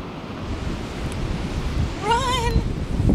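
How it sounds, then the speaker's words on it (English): Ocean waves wash onto a beach as a steady, broad roar of surf and wind, with a brief high child's call rising over it partway through. "What do you think of the beach, Sean?"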